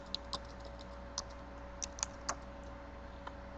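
A computer keyboard tapped in a handful of light, irregular keystrokes during a data-entry step, faint and close against a steady low hum, with no voices.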